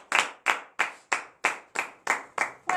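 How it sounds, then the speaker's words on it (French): Congregation clapping during a morning prayer service, a regular series of about nine sharp, evenly spaced group claps in a steady rhythm, close and fairly loud. "Donnez de vive acclamation à cette parole."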